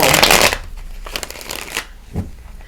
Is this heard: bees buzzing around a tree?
no